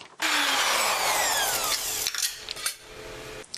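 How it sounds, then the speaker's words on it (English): A power tool cuts through rusted sheet metal of a Chevy Astro / GMC Safari van body for a repair patch, a loud continuous grinding whine with descending tones that breaks into shorter rasping bursts near the end. "Now I have to cut out where the metal was marked again."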